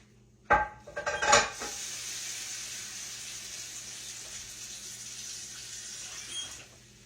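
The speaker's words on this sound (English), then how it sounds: "I'm going to put a little water in this skillet" Two clanks of a pan come first, then water poured into a hot skillet of cooking tenderloin chops hisses steadily, a sustained sizzle that fades slightly toward the end.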